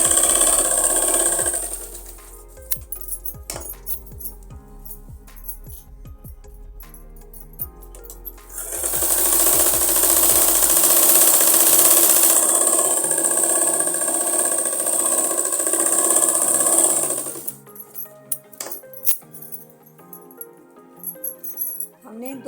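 A sewing machine stitches two seams on a cut salwar, with short clattering bursts and clicks at first, then a long continuous whirring run in the middle, followed by more intermittent stitching.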